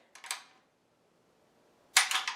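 The bolt of an Inland M1A1 paratrooper carbine is pulled back and then released. There are two sharp metallic clacks about a second and a half apart, close and loud, with silence between.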